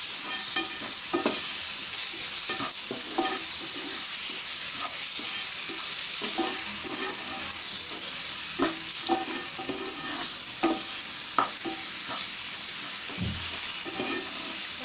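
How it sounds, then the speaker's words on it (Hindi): Tomatoes frying in a pan as they are stirred and mashed, a steady sizzle under repeated spatula scrapes and soft knocks spread across the stretch, close by and without voices. "अब हम टमाटर को अच्छे से भून लेंगे।"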